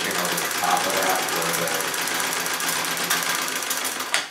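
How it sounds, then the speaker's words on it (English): A Singer 66 treadle sewing machine stitching in free-motion quilting, a fast, steady, rapid clatter running throughout at moderate volume with a faint voice underneath. "I'll run another line of stitching over the top of that"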